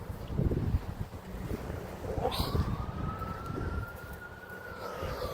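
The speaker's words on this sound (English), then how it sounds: "I've been hearing a lot of police sirens" A police siren wails in the distance, its long rising tone cutting through strong wind buffeting the microphone.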